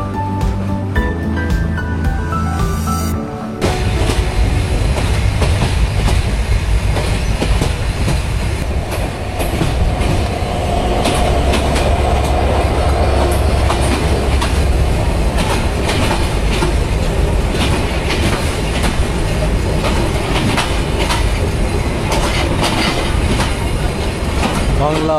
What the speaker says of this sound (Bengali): আমাদের ট্রেন আক্কেলপুর ছেড়ে দিল